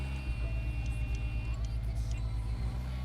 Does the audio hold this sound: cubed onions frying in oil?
no